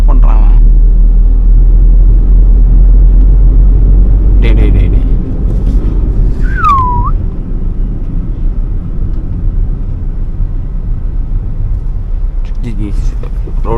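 A 2014 Hyundai i10 in second gear on a rough, bumpy road, with a loud low engine rumble under heavy talking from people inside the car and a brief squeak partway through.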